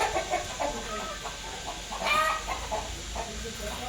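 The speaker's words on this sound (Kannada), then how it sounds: "ಇಲ್ಲಿ ನಾಟಿ ಕೋಳಿಗಳೊಂದಷ್ಟು ಮನೆಗೆ ಮೊಟ್ಟೆ ಆಗಲಿ ಅಂತ ಸಾಕಿದ್ದಾರೆ" Native country chickens kept for eggs in a farm garden cluck in short, busy bursts while being fed, a moderately close flock amid faint outdoor noise.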